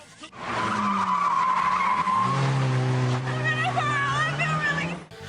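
A stunt car skids hard during a film chase scene, tires screeching loudly for several seconds over a revving engine, with a second squealing slide toward the end.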